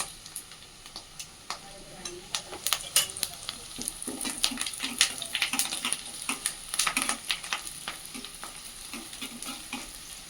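Green chillies sizzle and fry in a pan for chamagadda curry, with close crackling pops and spatters and occasional stirring clicks throughout.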